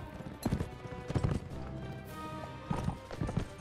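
Horse hooves during riding in the video game Mount & Blade With Fire and Sword: a rhythmic clip-clop of hoofbeats, fairly close and steady, over a soft background hum.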